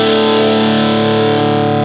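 Electric guitar run through a TC Electronic Mojo Mojo Overdrive pedal with the treble turned up gives one sustained, bright, distorted chord that holds steadily near and loud, then cuts off abruptly.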